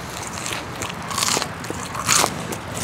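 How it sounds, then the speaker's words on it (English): A crisp bite into a crunchy fried onion ring, close to the microphone, with a couple of sharp crackling crunches in quick succession. "Zanil said, you want an onion ring for the ASMR?"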